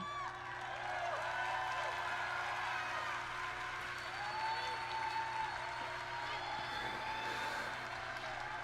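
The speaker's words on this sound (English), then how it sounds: "Yes, applaud his almost 20-year career." An audience at the Bethesda Showcase at E3 2019 applauds steadily with scattered cheers, while voices murmur through the clapping.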